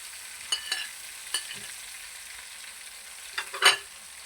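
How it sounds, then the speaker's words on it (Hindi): Four tomatoes and a little chili fry in a pan for an arbi curry, giving a faint, steady sizzle broken by a few soft clinks and scrapes of stirring. "टमाटरों को हमने फ्राई करना अच्छे तरीके से। अच्छा, थोड़ी सी मिर्ची मैं इसके साथ डाल रहा हूँ।"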